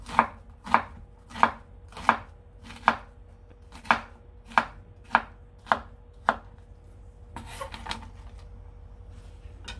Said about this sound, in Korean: 애호박은 볶을 건데 가늘게 썰면 부서지거든요. 그래서 살짝 두껍게 썰어줍니다.